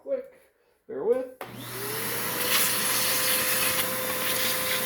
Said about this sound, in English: I think I'm going to run a vacuum across that tap real quick